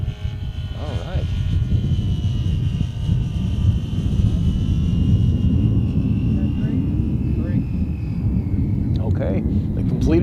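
A model airplane flies laps over a competition runway, its propeller engine droning steadily and fairly loud throughout, with a low rumble underneath and no talk.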